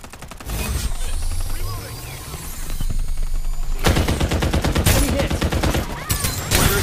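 Rapid automatic gunfire from the battle royale video game Farlight 84, dense loud bursts of shots with mechanical clatter and game effects, building toward heavier fire near the end.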